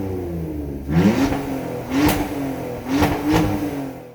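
A BMW E46 engine with mufflers and resonators deleted revs through its exhaust: three or four sharp, loud blips rising and falling over a steady idle rumble, recorded close.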